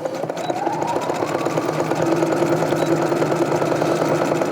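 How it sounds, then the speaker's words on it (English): A sewing machine running a zigzag stitch to join two fabric ends laid flat on top of each other, giving a steady, fast, rhythmic mechanical whir close by with no voices. "I just use a zigzag stitch and lay them flat on one on top of the other and stitch it together"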